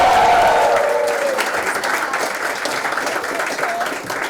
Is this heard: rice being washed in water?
no